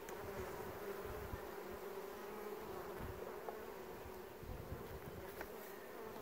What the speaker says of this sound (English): Usually there might be a few bees you can knock in.